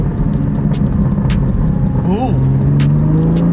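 A BMW M2 Competition fitted with Active Autowerke mid pipes rumbles loudly up close, letting out a burst of sharp exhaust pops and crackles as the revs rise, with a person exclaiming over it.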